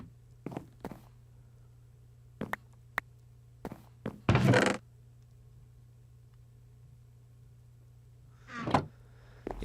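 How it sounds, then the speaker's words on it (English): Several dull thuds of a head banging on a desk, scattered irregularly among low game background hum, with one louder heavy thump near the middle and a rustle near the end. "I'm even banging my head on the desk in the game"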